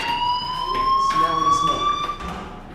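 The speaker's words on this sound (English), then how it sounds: "do you hear that fire alarm?" A loud electronic fire alarm in a high school in the video game Life is Strange wails steadily with a high sustained tone, pulsing slightly, amid background game sounds.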